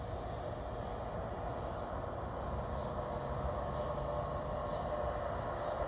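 A coal train hauled by two locomotives rolls past nearby, giving a steady, loud rumble of wheels and railcars that holds without a break from start to end.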